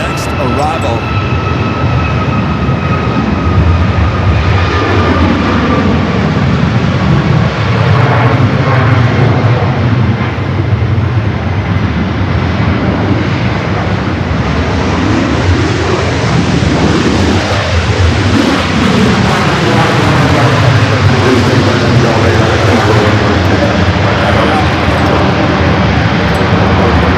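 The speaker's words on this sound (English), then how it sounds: "we can still hear that awesome touchdown sound." An airliner lands on runway 24 left at Los Angeles LAX airport, a loud, steady jet roar that rumbles and swells without pause for the whole stretch.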